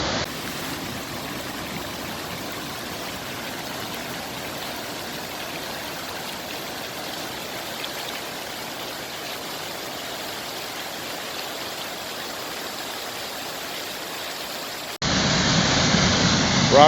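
Steady broadband rush of a waterfall in Colorado's San Juan Mountains, constant and fairly loud throughout, with a brief brighter, louder patch near the end.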